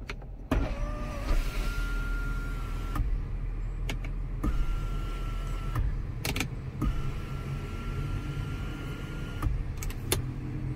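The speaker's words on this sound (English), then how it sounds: "you have to press this button so the windows will open" Power windows on an MG ZS Electric car whir up and down in several separate runs, each a steady motor whine lasting a second or two and ending in a click, heard up close inside the cabin with no talk.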